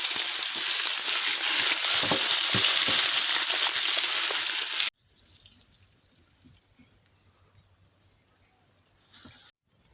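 Egg bonda frying in peanut oil, a loud, dense sizzle and crackle for about five seconds that cuts abruptly to near silence, followed by a short faint burst of sizzling.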